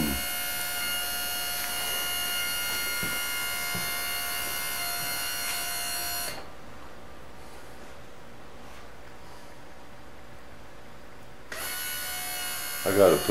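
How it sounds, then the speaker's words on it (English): A fuel pump labours to pressurize fuel tanks through a small fuel line, giving a steady electric whine and hum that drops in level midway, then comes back louder with a brief clatter at the end. "See the pump laboring? There's some pressure in them tanks now."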